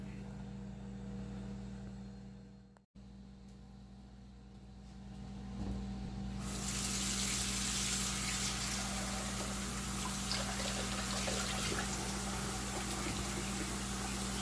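Running tap water pours steadily over iron skillets being rinsed in a sink, a strong continuous broadband wash that starts softer and swells fuller after a brief break, with a low steady hum underneath and no talking.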